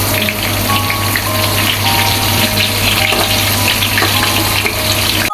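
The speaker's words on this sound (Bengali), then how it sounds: "শুকনা মরিচটাও ফ্রাই হয়ে যাবে একই সঙ্গে।" Hilsa fish pieces and whole dried red chillies deep-frying in hot oil, a loud, dense, continuous crackle and hiss that holds steady throughout without pause.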